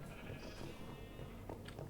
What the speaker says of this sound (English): I've got another building, which is full of sheep.